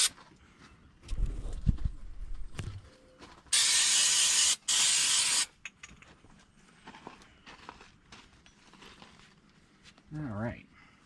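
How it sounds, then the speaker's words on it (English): Two sharp, loud bursts of aerosol brake cleaner hiss onto a rear suspension part of a 2011 Nissan Altima 2.5 SL, separated by a brief pause, amid quieter workshop handling noises. "I'm just going to use some basic brake clean, basically."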